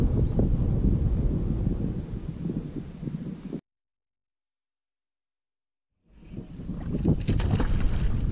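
A kayak moves across open water with a steady washing and splashing of paddle strokes and wind noise on the microphone. The sound is loud and close, cuts to near silence for about two seconds, then returns.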